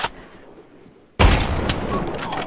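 Gunshots in the VR shooter Pavlov VR, a sharp shot at the start, then a loud burst of rapid gunfire that keeps crackling and echoing to the end.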